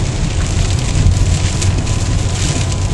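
Heavy rain pours down steadily in the Adirondack Mountains, a loud, dense, unbroken hiss close to the microphone with a low rumble underneath, and no voices.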